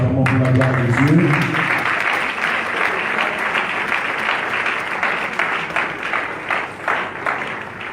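A church congregation breaks into sustained applause and cheering as a pastor approaches, dense clapping filling the space from start to finish, with a brief voice at the opening before the clapping takes over.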